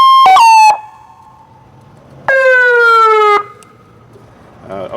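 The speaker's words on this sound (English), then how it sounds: "It also has the air horn." A Federal Signal electronic siren produces an air horn effect, a short loud blast at the start and a longer honking burst about a second and a half later, with a quiet gap between.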